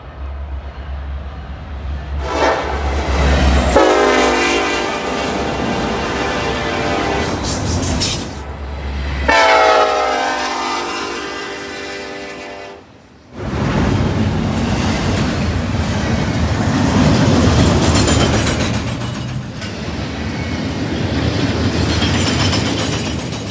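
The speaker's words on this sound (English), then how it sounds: "this train was also an EMD leader, another ace, and behind that was yet another ace and a Jeep" EMD diesel locomotives leading a freight train past at night: a loud steady rumble of wheels and engines with rising horn-like tonal whines, a brief lull midway, then continued rolling clatter of cars.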